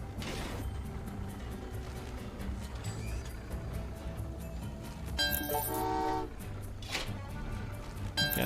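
Trains rumble along in Train Valley 2 on a Machu Picchu map, a low continuous rolling hum broken midway by a short tonal horn toot and a later brief burst, fairly faint.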